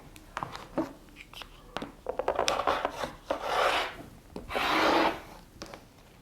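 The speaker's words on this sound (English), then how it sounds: "I'm going to go around to all 4 edges and trim the edges straight" Scissors trim straight along all four edges of a towel while making an apron, producing close rasping fabric cuts in irregular bursts, with brief talk mixed in.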